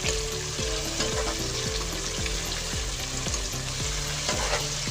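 Sliced green chilies, three or four of them, sizzle and fry in hot oil in a pan for a vegetable pulao, with steady loud crackling and a spoon stirring at a regular rhythm throughout.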